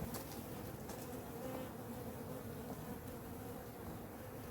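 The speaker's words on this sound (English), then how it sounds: "Just taking out all the bees." Honeybees buzz in a steady, dense swarm while hive frames are pulled during a spring honey harvest, a continuous close hum with no talk.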